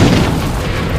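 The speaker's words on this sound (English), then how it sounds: "The Americans fire mortars to try and stop the second wave of tanks." Mortar fire during a Vietnam War tank battle, heard as a loud, deep, rumbling boom that fills the whole second without a clear break.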